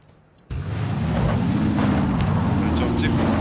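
A vehicle drives nearby in PUBG, its engine kicking in abruptly and holding a loud, steady low drone with slowly rising and falling pitch for several seconds.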